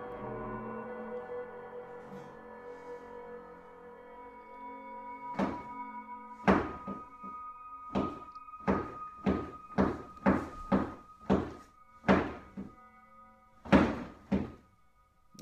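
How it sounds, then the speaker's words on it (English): Repeated knocking inside a house during a ghost-sighting recording, a series of sharp, fairly loud thuds at an irregular pace that picks up into a rapid run of knocks, with a low hum underneath and no talking. "The knocking continues"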